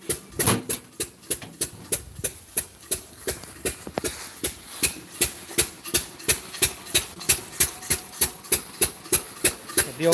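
Natural gas engine running an oil well pump, a steady rhythmic chugging of evenly spaced sharp beats, about two to three per second, close and continuous throughout.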